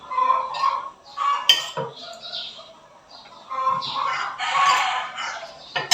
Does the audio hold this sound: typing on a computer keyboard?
no